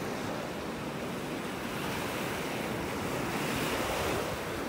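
Ocean waves break steadily on a beach in North Naples, Florida, a continuous roaring wash of surf mixed with wind buffeting the microphone, with no voices.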